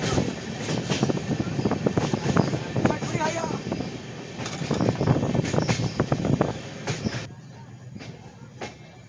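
An express train pulls into Gaya Junction with a loud, steady rumble and rolling clatter, wind buffeting the microphone, and the noise eases near the end.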